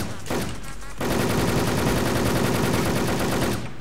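M500 shotgun firing in a video game, a dense, loud, continuous run of blasts that builds after a brief opening and holds steady for nearly three seconds.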